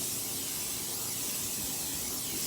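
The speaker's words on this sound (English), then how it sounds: "Spray it with some vegetable oil." A can of vegetable oil is sprayed into a baking dish in one continuous, loud, close hiss that runs unbroken from start to finish.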